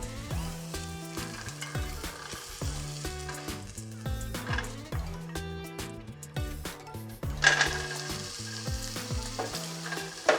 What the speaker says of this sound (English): we're just gonna add our patties to it